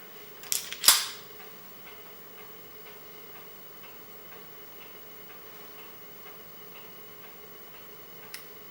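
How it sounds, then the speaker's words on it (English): Trigger pull and reset clicks from a CZ PCR pistol fitted with a short reset disconnector: a sharp close click with a brief rattle near the start, then a lone faint click several seconds later, in a quiet room. "There's the trigger pull. And the reset."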